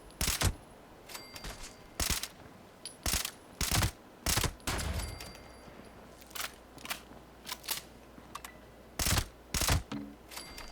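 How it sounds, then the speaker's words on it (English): Fixer rifle gunfire in Fallout 76, a series of sharp bursts and single shots repeating at an irregular rhythm across the whole stretch, loud and close with no talk. "I really like rate of fire on fixers"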